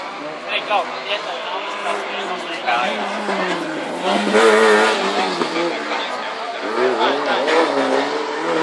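A rally car at a rallysprint revs and accelerates with a rising and falling engine note and some tyre noise, heard over a steady stream of commentary.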